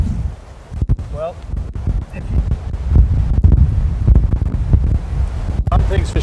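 Strong wind buffets the microphone on a golf course, rumbling in uneven low gusts with some rustling. A person talks through it.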